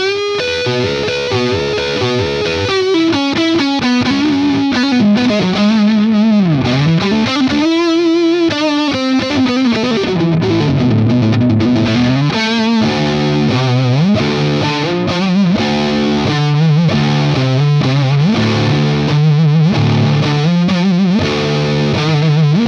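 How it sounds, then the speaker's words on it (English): Heritage H-150 electric guitar played on its neck pickup in a Delta blues style, with distorted, effects-laden bends and sliding lines ringing loud and continuous without any talking. "I'm gonna go down to the old neck and play some deep down of the Delta blues."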